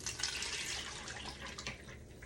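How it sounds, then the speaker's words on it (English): Oil pours steadily into a large mixing bowl for homemade natural soap, a continuous close liquid trickle and splash with no talking. "Carefully pour our oil into this bigger bowl"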